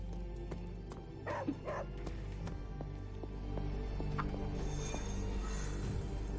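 A dog yips and barks a few times in Marvel's Midnight Suns, short bursts over a steady game soundtrack and ambient hum, fairly close and moderately loud.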